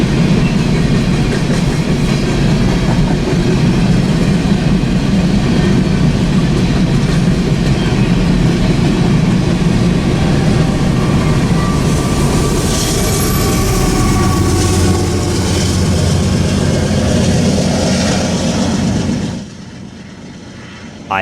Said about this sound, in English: I ran into BNSF 5994 West, passing through the town of Ashby, Nebraska, with a 1x1 engine setup